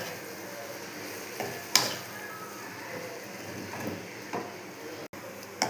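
Chapati masala of cut chapati pieces and chilli powder fries quietly in a pan while being stirred, soft sizzling broken by a few scraping clicks of the spoon against the pan.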